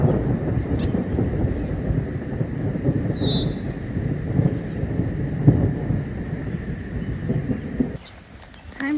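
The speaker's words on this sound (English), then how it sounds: "it's getting windy. The rain's blowing in." Steady rushing wind with broad low rumble and gusty texture, as rain blows in at East Harbor State Park, fairly loud and continuous, a brief chirp near the start before it drops quieter at the end.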